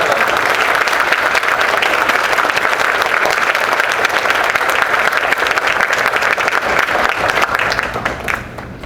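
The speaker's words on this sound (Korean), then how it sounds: "환영의 박수 부탁드립니다." An audience at a Korean-language teachers' academic conference gives sustained, dense applause to welcome a guest, loud and even for most of the stretch before starting to taper at the very end.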